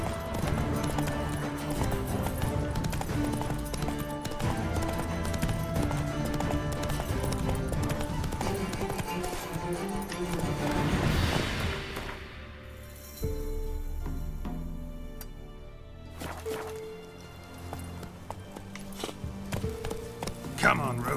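Geralt's horse Roach gallops through Velen in The Witcher 3. Rhythmic hoofbeats and clip-clop play under game music and a voice, then give way to quieter ambience and sparse sounds.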